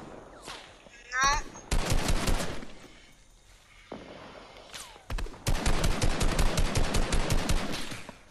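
Gunfire in a Fortnite match, with rapid bursts of automatic shots in quick rhythmic volleys and scattered single cracks, loud and close, while players talk in between.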